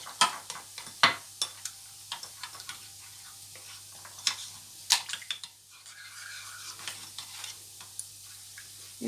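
A utensil stirs a flour and water sauce to work out lumps, producing irregular clicking taps against the bowl in uneven bursts, with a soft wet swishing between them.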